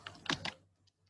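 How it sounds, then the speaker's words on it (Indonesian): Computer keyboard keys typed in a command-line window, a brief burst of three or four quick, close clicks that fade into quiet. "kita ketikkan delimiter titik koma"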